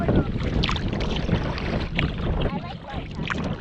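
Canoe paddle strokes on Magnetawan Lake in Algonquin Park during a spring ice-out trip, several soft splashes and swishes coming close together against wind buffeting the microphone.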